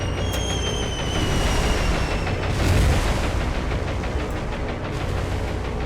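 Bombs dropped on enemy ships in the naval combat game War on the Sea, heard as a dense, rumbling wash of distant explosions and booms over steady engine drone, swelling briefly near the middle.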